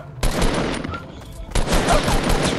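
Loud, close Fortnite gunfire: a rapid burst of shots, a short lull, then another dense burst of fire.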